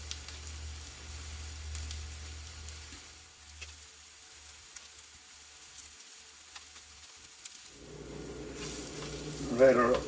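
Onions softening in a pan for a BBQ bacon burger, a faint low sizzle that fades midway then returns with some louder crackle near the end.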